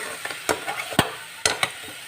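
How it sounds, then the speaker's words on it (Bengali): Ginger, chili powder, turmeric and salt cooking down in hot oil into a Bengali masala, with a few sharp stirring scrapes and soft sizzling between them, close and fairly quiet. "আদা, লঙ্কা গুঁড়ো, হলুদ গুঁড়ো, নুন দিয়ে ভালো করে এটাকে আমি কষিয়ে নেব"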